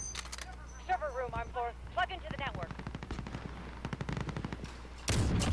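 Several sharp, cracking sniper rifle shots ring out in the Modern Warfare Spec Ops Kuvalda mission as tower guards are picked off, with someone talking over them throughout.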